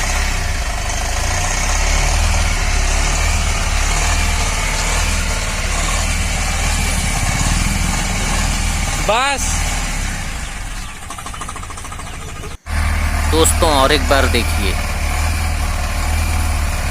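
A Tata Mantra truck engine with starting and pickup trouble, emitting white smoke, idles with a steady loud rumble. Someone talks over it throughout, and a brief dropout is followed by a rev-like swell.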